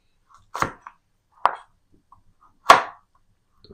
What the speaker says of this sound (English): chop a little carrot